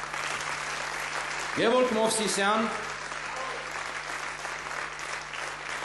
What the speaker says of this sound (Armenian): Իսկ այժմ եկեք ծափարենք մեր երաժիշտներին